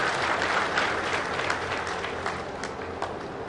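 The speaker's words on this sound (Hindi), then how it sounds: "आप अपने सम्मान में जोरदार ताली बजा सकते हैं" An audience at an official government event for an indoor firing range inauguration and flag-off claps loudly in a sustained round of applause that slowly tapers, with no voices over it.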